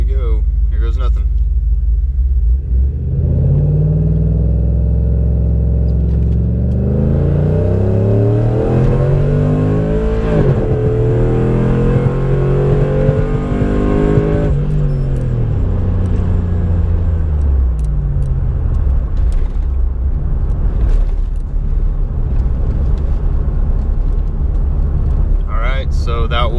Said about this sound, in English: so that was the four-wheel drive launch. 0 to 60.